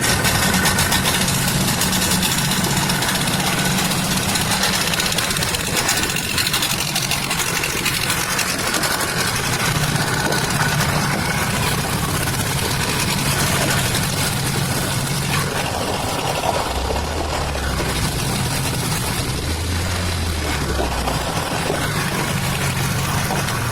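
An outboard motor on a tiller conversion runs at idle, a steady, loud mechanical drone with a rough vibrating rumble, continuous and close, with no talking.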